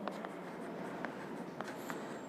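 A pen scratching on paper while a class 9 maths solution is written out by hand: a quiet, steady stream of short scribbling strokes, with no voice.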